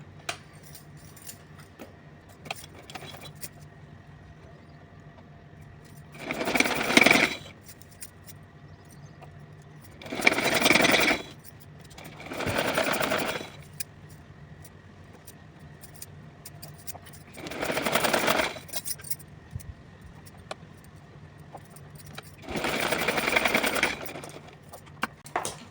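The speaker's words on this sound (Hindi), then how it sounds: "तो चलिए हम सिल के दिखा रहे हैं आपको।" Sewing machine stitching folded piping onto a small summer dress for a Kanha ji idol, heard as five separate bursts of a few seconds each, with quiet pauses between them and no talking.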